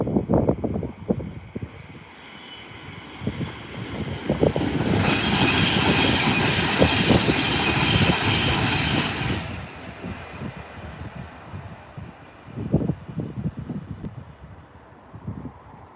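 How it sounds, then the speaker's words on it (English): A train passes by on a British railway line, its rumble swelling into a loud, broad roar with hiss and rattling wheel clatter for several seconds before fading back to distant clicks and knocks. "That train that's just gone past is going to Glasgow."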